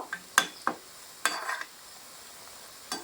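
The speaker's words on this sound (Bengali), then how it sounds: "সে কারণে হালকা আছে পকোড়াগুলো ভেজে নিতে হবে" Flattened rice (chira) pakoras sizzle quietly in oil, broken by a few sharp clinks and scrapes as a utensil turns them.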